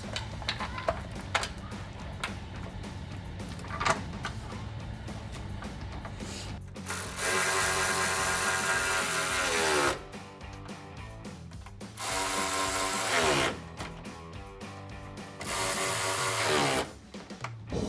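A hand ratchet clicks rapidly while tightening bolts on Jeep Gladiator JT headlights, several long runs of fast clicking separated by pauses and small handling knocks, close and clear with no talking.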